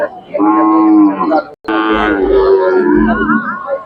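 A Khillar bull at a cattle market lets out two long, loud, deep moos close by, separated by a brief pause, with low rumbling tones under the second call.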